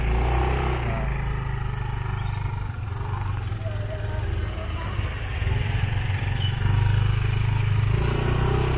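Motorcycle engine labouring on a rough, hard-to-pass road near Muara Baduk in Pesanggaran, Banyuwangi, a continuous throaty drone that rises slightly near the end, with a voice talking over it.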